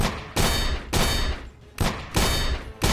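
Rapid bursts of gunfire from the Aim Lab training game, four loud, dense volleys of repeated shots with short gaps between them, close and full.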